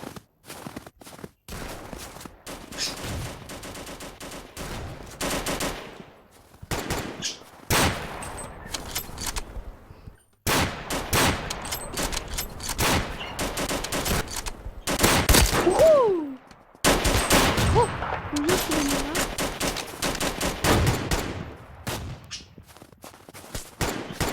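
Gunfire in a first-person shooter video game: repeated bursts of shots and rapid firing come in clusters across the clip, loud and close, with footsteps and game effects between the volleys.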